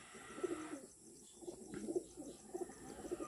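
Racing pigeons cooing softly in repeated low throaty bursts, fairly close in a quiet loft setting.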